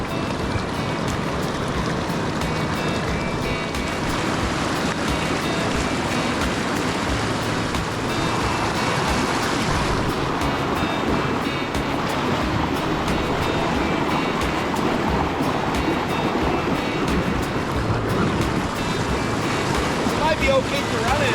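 Rushing water of the Kettle River pours over drops and through a large boulder garden, a dense continuous roar that holds steady and close throughout.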